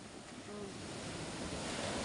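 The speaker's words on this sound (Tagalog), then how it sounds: "Ang laki ng alon, no?" Large ocean waves at sea, heard from a small fishing boat, make a continuous loud wash of surf and rushing water with wind buffeting the microphone.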